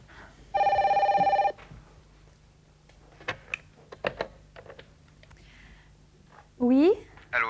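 A telephone rings with one long electronic trill, followed by clicks and knocks as the handset is picked up. People talk nearby.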